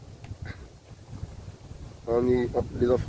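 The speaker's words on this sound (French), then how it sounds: "Comme vous pouvez l'entendre là, écoutez le vent là." Wind blows outdoors, a low buffeting rumble that rushes against the microphone throughout, with a voice speaking over it near the end.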